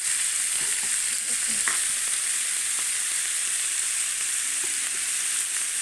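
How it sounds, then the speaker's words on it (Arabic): Sausage fries in a pan with a bright, constant sizzle while being stirred, with occasional soft scrapes and taps of the utensil under the hiss, close and steady with no voices. "دلوقتي بقى هبتدي اقلب في السجق بتاعي"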